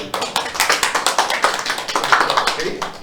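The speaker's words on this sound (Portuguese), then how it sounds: "Uma salva de palmas." A workshop audience in a room breaks into a round of applause, a dense run of rapid, fairly loud hand claps that keeps up evenly for about three seconds.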